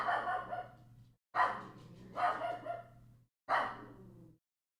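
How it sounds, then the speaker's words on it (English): A dog barks in a hallway: four loud, close bursts, each separated by a short silence, with no other sounds around them. "Luigi's gonna go crazy because there's a dog barking in the hallway"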